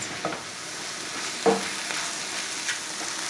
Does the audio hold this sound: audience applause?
no